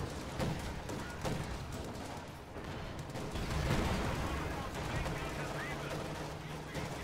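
Gunfire from a Panzer IV tank and surrounding combat in the video game Company of Heroes 2, a dense, continuous battle mix of shots and explosions at steady loudness, with faint talk underneath.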